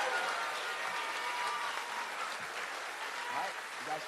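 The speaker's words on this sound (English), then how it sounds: "could we please have one big round of applause for our math achievement winners?" An audience claps at an elementary school fourth grade promotion ceremony, a soft, distant wash of applause with murmuring voices mixed in.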